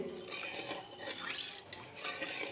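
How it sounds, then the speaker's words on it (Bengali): Spice mix being stirred in a cooking pot with a spoon, steady scraping and clinking against the metal sides, close and continuous with a faint watery bubbling beneath. "এবার মশলাটা নেড়ে মিশিয়ে নেব"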